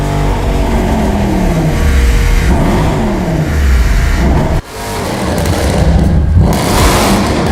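Mercedes C63 Black Series saloon engine revs hard and loud up close, rising and falling through several sweeping pulls with a brief cut near the middle before climbing again.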